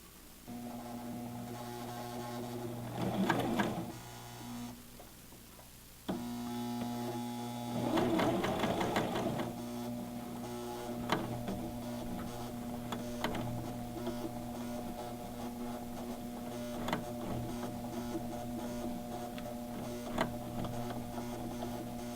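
A coverstitch sewing machine runs steadily through fabric, giving a continuous mechanical whir with a rhythmic needle clatter, plus a couple of louder bursts as the stitching starts and then passes back over the first stitches.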